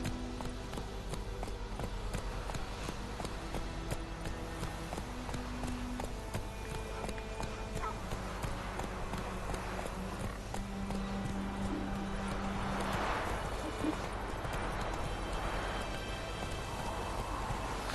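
Horse hooves clip-clop steadily in The Witcher 3 on Switch, a continuous galloping and trotting rhythm that sits under game music and ambient sound throughout.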